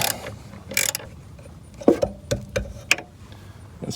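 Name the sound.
13mm socket being turned on running board bolt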